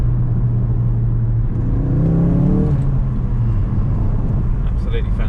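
A Ford Focus RS engine rumbles and revs up steadily from inside the car, the pitch climbing as it accelerates while someone talks over the engine noise.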